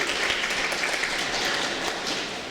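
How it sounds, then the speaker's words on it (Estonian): Sustained applause from a congregation gathered for a church service, dense steady clapping from many hands throughout with no talking over it. "Ja nüüd võib teha veel ühe aplausi suurem."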